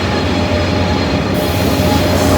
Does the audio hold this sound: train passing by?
yes